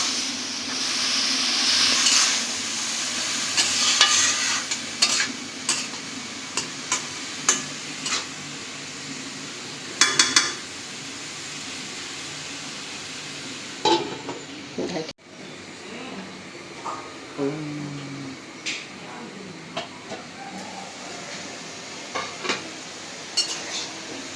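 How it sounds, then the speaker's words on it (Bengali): Taro-stem vegetables stir-fried with mustard spice paste in a pan, a soft sizzle under repeated clinks and scrapes of a metal spatula against the pan at an irregular pace, with occasional talk. "সরষেটা কষানো হয়ে গেছে"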